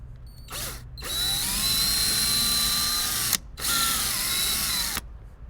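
Power drill boring a larger hole for a cargo net screw in a Fisker Ocean One, two sustained high whining runs separated by a brief stop, close and clear with no talking.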